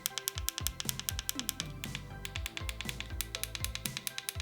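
Small clicky teleprompter remote buttons, powered by a lithium coin battery, pressed in a rapid irregular series of sharp, close, dry clicks with no talking.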